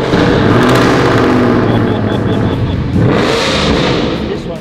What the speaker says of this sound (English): I'm going to hand the keys over so we can start it.